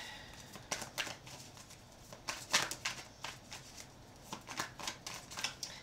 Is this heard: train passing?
no